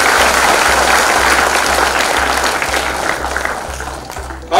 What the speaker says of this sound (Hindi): जोरदार करताली दे